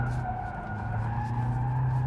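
A BMW 5 Series with a 2-litre diesel engine slides while its tyres skid in a steady, sustained scrub, with the engine droning underneath at a moderate distance.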